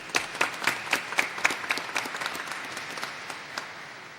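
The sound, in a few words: audience applause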